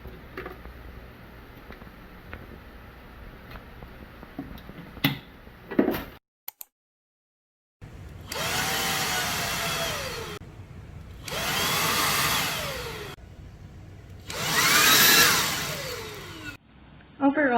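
A Xiaomi Dreame V10 wireless vacuum cleaner runs in three steady whining bursts of a few seconds each, loud and close, separated by brief pauses, after some earlier handling noises and a short silence.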